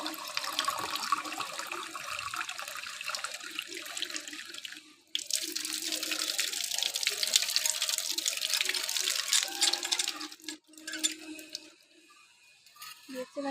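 Tap water runs into a mug, making a steady hissing splash that pauses briefly about five seconds in and then resumes before tapering off near the end, with no talking.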